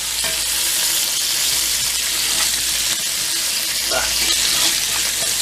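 Hamburger patties sizzle steadily in a pan just after being flipped, a loud, continuous close frying hiss with faint crackles and light scraping.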